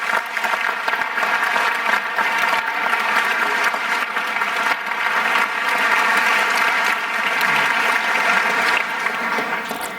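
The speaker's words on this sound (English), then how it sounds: "please join me in a round of applause" A large crowd at a high school graduation for the class of 2019 claps loudly and continuously, a thick, even wash of applause sustained for the full ten seconds.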